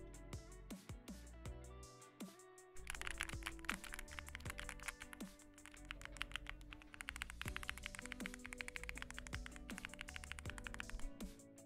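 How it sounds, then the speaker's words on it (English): Someone types on a computer keyboard with the microphone held very close. Key taps come in quick irregular bursts, faint overall, continuing for about twelve seconds with no talking. "You want to hear the keyboard?"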